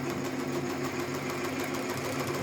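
A Tajima TMBR1501c embroidery machine stitches a cap with a steady, fast mechanical chatter and hum, even and unbroken at moderate level.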